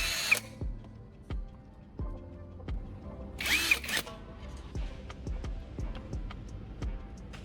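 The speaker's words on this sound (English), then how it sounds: "I'll attach the fully charged battery to my drill." A cordless power drill whirs in two short bursts driving screws into wood, amid a series of sharp, irregular clicks and knocks, fairly close and moderately loud.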